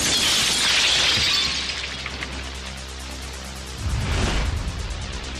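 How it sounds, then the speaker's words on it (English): A blast wave from the Oklahoma City bombing smashes a wall of glass windows at the Murrah building, a loud sustained crash of shattering glass that eases off and then swells again. "Military high-speed film shows what it's like when a blast wave hits a wall of glass."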